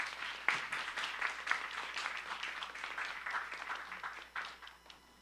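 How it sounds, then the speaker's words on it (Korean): Applause from an audience at an Ebola preparedness drill at Chungnam National University Hospital, a steady patter of many hands clapping at moderate distance, continuing for several seconds with fluctuating density. "수고해 주신 우리 두 분께 박수 부탁드립니다"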